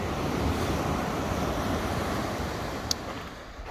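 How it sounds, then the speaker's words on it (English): Ocean waves break on a beach at Pirates Bay, Poris de Candelaria on La Palma, a constant full roar of surf mixed with gusting wind against the microphone, with a single small knock near the end. "we're going to get cracked on with that and dodge these waves"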